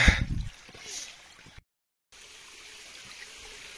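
Creek water running over stones while someone wades through a stream on Mount Takao, a soft continuous trickle with a louder splash at the start, heard close by.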